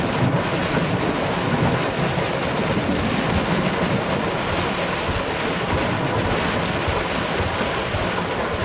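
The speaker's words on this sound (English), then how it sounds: "It looks like the transformer blew." A lightning storm in the horror game Suffer The Night: steady, loud roaring rain and rumbling thunder fill the whole stretch, with no distinct sharp blast standing out from the dense storm noise.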